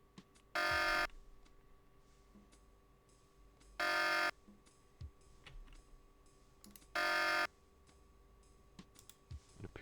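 Three loud, identical bursts of a security system alarm from the video game Tex Murphy: The Pandora Directive, each about half a second long and evenly spaced over a quiet, faintly humming background.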